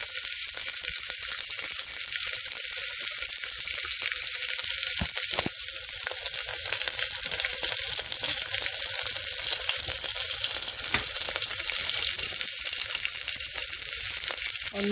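Celery and zucchini fry steadily in a pan with garlic and curry leaves over medium flame, giving a loud, continuous sizzle with no voices.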